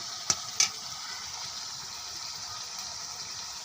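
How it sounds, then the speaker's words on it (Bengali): Chicken fries in a pan on a gas stove for a masala dish, with a steady, even sizzle and a couple of sharp utensil clicks near the start. "দেখেন কিভাবে ভাজি আমরা এগুলো"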